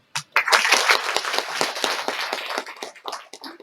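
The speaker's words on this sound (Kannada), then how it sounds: "ಮೇಡಮ್ ಚಪ್ಪಾಳೆ ಹೊಡೆದು" An audience at a college freshers' welcome and felicitation for II PU toppers breaks into a brief round of dense applause that swells quickly, then thins into scattered claps.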